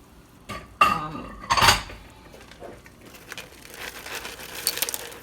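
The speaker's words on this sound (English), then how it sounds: "I'm just going to fill it with egg noodles" Dry egg noodles tipped into a pot of boiling water while making a ham and noodle casserole: two or three bright, rattling clatters against the pot close by, then a softer, steady bubbling and shuffling.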